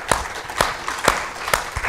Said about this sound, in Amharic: በደንብ አጨብጭቡ።